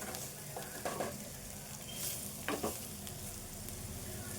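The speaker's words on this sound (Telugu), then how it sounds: "ఈ కారంతో కూడా ఇవన్నీ వేపుకోవాలి." Prawns frying in a pan with salt and chilli powder for a prawn curry, with a steady sizzle and a few louder scraping stirs from a spoon at close range and no talk.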